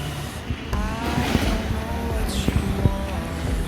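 A 2006 Honda CBR 1000RR with a loud aftermarket under-seat twin exhaust revs hard, its engine roaring close and rising in sharp bursts, with a few short pops between throttle blips.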